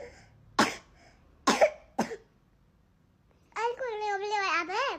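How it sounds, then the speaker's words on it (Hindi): A child coughs three times in quick, sharp bursts, followed by a young voice speaking briefly. "चलो खांसी हो रही है ना,"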